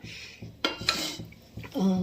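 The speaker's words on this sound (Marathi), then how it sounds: "ही स्टीलची कढई आहे त्यामुळे ना यामध्ये सारखं हलवावं लागतं" A spoon scrapes and clinks around a steel kadai as food is stirred, a few close metallic knocks in quick succession over a brief stretch, ending with a ringing tone.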